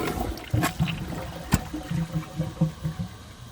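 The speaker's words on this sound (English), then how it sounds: "that flush definitely wasn't complete before" Water rushes and gurgles in pulses through the bowl of a 2018 WaterRidge one-piece toilet as it flushes with the handle pressed fully down, a sharp knock mid-flush, then tapering off.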